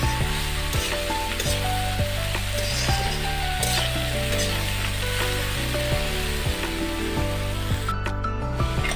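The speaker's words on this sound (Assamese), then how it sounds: "2-3 মিনিটমান ভাজি লওঁ" Taro pieces frying in oil in a pan in a home kitchen: a loud, continuous sizzle with occasional stirring clatter throughout, no talking.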